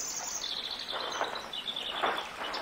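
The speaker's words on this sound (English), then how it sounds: "Oh, they're white birds." Chirping from white birds in the hidden-object game Portal of Evil: Stolen Runes: thin, high, bright tweets repeating at irregular moments over a soft, steady background, moderately loud and close.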